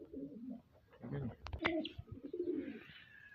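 Punjabi pigeons cooing softly in a loft, low throaty coos with a couple of brief sharper calls, fairly quiet and close, someone talking intermittently over them.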